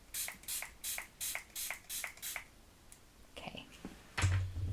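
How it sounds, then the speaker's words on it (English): Makeup setting spray is misted in a row of about seven quick, evenly spaced hissing bursts, followed by quieter handling noises and a louder thump at the end. "So get your setting spray and then spray."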